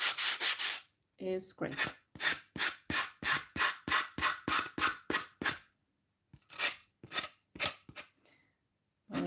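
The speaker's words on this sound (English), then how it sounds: "When you're sanding, always sand from the bottom, from the top to the bottom." Rapid back-and-forth rubbing strokes of sanding a napkin-decoupaged coaster from top to bottom, in quick rhythmic bursts with a brief pause midway and a few spoken words.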